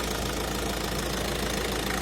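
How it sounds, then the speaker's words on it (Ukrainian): A Peugeot 308 SW car engine idles steadily with a low, even rumble and a faint knocking rhythm, close by and unbroken for the whole stretch. "Отак працює моторчик"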